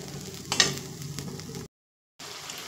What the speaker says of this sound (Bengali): এবার মিডিয়াম ফ্লেমে চিকেনটা খুব সুন্দর করে কষিয়ে নেব।